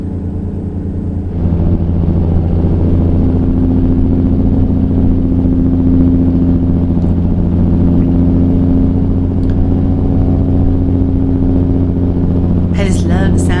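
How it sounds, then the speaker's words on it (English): A vehicle engine in a driving video game hums steadily on a two-lane road, a constant mid-pitched drone after a brief quieter start, with a short clatter near the end. "I just love the sound of this engine."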